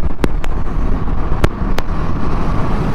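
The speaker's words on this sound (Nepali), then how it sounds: "कस्तो हावा चल्यो क्या है, मलाई र बाइक दुइटैलाई उडाउला जस्तो क्या" Strong wind buffeting the microphone beside the Han River in Korea, a loud continuous roar with a few sharp gusty pops and rumble, close and unbroken, no talking.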